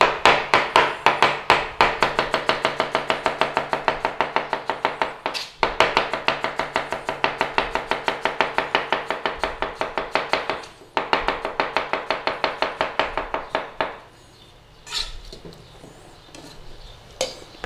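A knife chops rapidly through potatoes on a board for a Lancashire hot pot, a long fast run of sharp, evenly spaced taps with brief pauses, then a few scattered knocks near the end.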